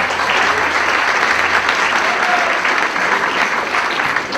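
Steady, dense applause from an audience at a rock night event at MALI in 2006, welcoming a journalist being introduced, continuous and even for several seconds.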